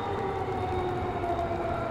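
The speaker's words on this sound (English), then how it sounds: "you can hear the tornado sirens sounding downtown right now." Tornado warning sirens wail across downtown Nashville, Davidson County, during a severe storm, a steady sustained tone heard from a distance under a constant background hiss.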